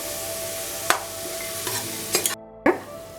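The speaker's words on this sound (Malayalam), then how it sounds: "നമ്മുടെ വെജിറ്റബിൾസ് ഇതിലോട്ട് എല്ലാം കൂടെ ഇട്ട് നല്ലപോലെ ഒന്ന് ഇളക്കാം." Vegetables for a kuruma fry in a cooker while a spoon scrapes and stirs them, sharp metallic scrapes over a steady close sizzle.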